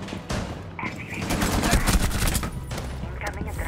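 Rapid bursts of gunfire fill a Rainbow Six Siege match, loud and dense, with overlapping volleys and booming shots running throughout.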